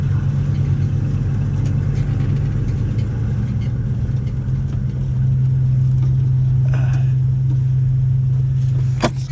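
An old Dodge engine that has sat for years runs at a steady rough idle, with a loud, low, continuous rumble, close by and alone, with faint clanks near the end.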